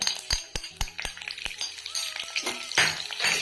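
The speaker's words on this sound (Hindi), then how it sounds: "तो इसको हम हल्का सा फ्राई करेंगे।" Cumin seeds and green chillies fry in hot oil with a busy sizzle, punctuated by clinks and scrapes of a spoon stirring against the pan, close and fairly loud.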